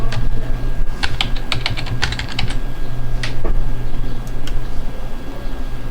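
Login details go in on a computer keyboard as quick bursts of clicky keystrokes over a steady low background hum, with pauses between the flurries and one last pair of taps near the end.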